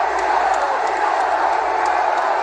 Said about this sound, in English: And you can hear the crowd, the support here